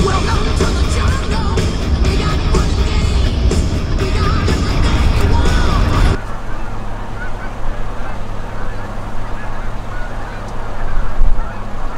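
A flock of geese honks loudly and continuously at a roost during a goose hunt near Fergus Falls, Minnesota, the calls thinning to fainter, scattered honks partway through.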